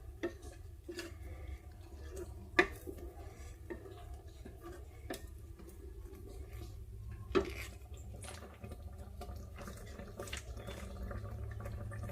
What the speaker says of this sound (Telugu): ఇలాగా చక్కగా ఇది దగ్గరగా ఉడికేంత వరకు కూడా కలుపుతూ ఉడికించుకుందాం.